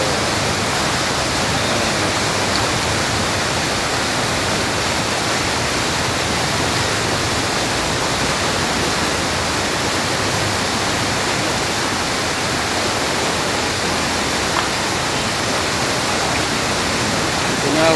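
Floodwater roars through the Cikalapa river channel after heavy rain, a dense, unbroken rushing roar that stays loud and close throughout with no voices.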